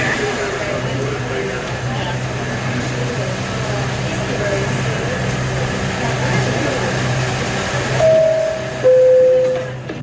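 Steady low rumble of a subway train in motion, with a constant droning hum and a brief high squeal near the end.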